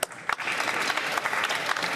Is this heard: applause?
yes